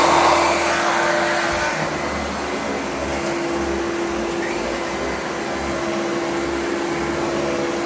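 Vacuum cleaner running after a belt replacement, a steady close whirring drone with a faint tonal whine and slight wavering rumble, no talk.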